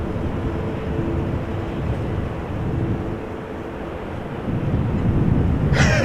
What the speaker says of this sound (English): 777 on the move.